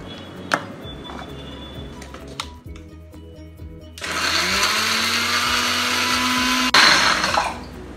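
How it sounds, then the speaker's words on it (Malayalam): A blender grinding masala paste with vinegar for Goan prawn balchao roars up loudly after a few quiet seconds of small clicks and knocks, holding a steady whirring grind that surges briefly near the end and then cuts off. "ഇനി ഇതിലേക്ക് നമ്മൾ ഈ വിനീഗർ ഒഴിച്ചിട്ട് നമ്മൾ നന്നായിട്ട് അരച്ചെടുക്കണം."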